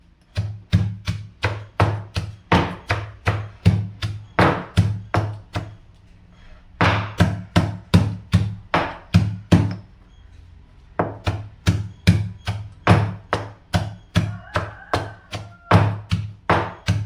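Onion crushed for crab rasam, a fast run of regular heavy thuds in three bursts separated by short pauses, close and loud with no talking.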